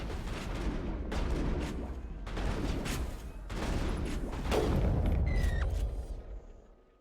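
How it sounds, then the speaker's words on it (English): Heavy gunfire and booming blasts roll through a firefight in the video game Mass Effect 2, with a sniper rifle in use, dense and continuous without talk. "Might as well switch to my sniper rifle."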